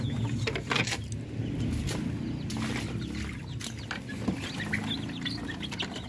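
Darag native chickens cluck and call constantly inside a breeder pen. The clucking sounds moderate and close, over a low steady rumble and some scattered farmyard noise.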